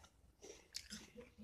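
Soft, faint chewing and crunching as someone pretends to eat an apple, a few quiet bites with small mouth noises and no talking.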